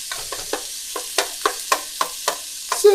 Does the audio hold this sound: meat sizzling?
yes